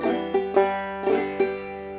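Clawhammer banjo plays one measure of the old-time tune Georgia Railroad, a brush-thumb rhythm with several bright plucked notes and strums ringing in a steady, close, solo pattern.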